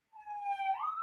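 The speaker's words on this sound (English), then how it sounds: "And I hear a siren." Emergency vehicle siren wailing in a steady rising tone, faint and somewhat distant, sounding alone for about a second.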